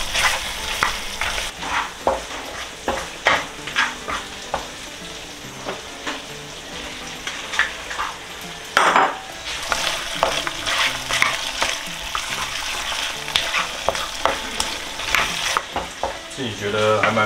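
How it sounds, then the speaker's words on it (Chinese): Pork ribs stir-fry in sweet and sour sauce in a pan, giving a steady close sizzle broken by repeated scraping stirs, with no talk over it. "调的这个糖醋酱啊炒一下。 之后呢，就把我们的排骨放下去喽，排骨。"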